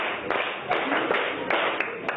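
Crowd clapping in time at a Joy FM Fantastic Four Tour concert, a string of crisp, regular claps close by, blended with music and a quieter voice.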